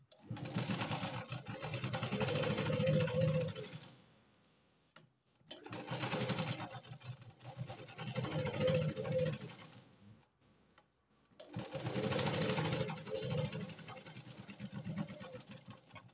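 Sewing machine stitching the lining of a katori blouse, three long runs of steady rapid needle whirring separated by brief pauses, close and alone without talk.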